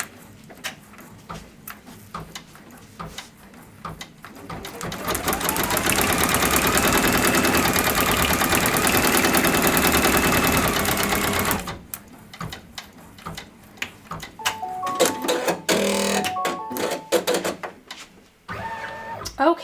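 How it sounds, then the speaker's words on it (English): A home embroidery machine, fitted with a non-original hoop, stitches a placement line in a loud, steady, rapid mechanical chatter that runs several seconds alone, then stops, followed by scattered handling clicks and taps. "And now I will just do the placement stitch real quick."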